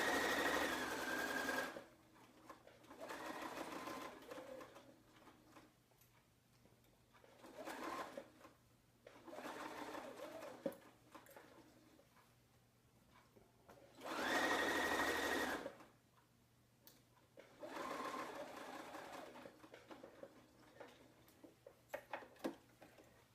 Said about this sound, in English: every now and then I'm going to be lifting my presser foot to just redistribute the fabric that's under it